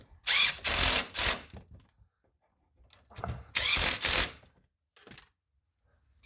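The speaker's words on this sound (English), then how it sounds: "So now I'm gonna take my T45 again. I'm gonna tighten these down." Two loud bursts of a power tool driving a T45 Torx bit to tighten brake caliper bolts on a 2006 Chrysler Town & Country, each lasting over a second, with quiet gaps and a faint tap between.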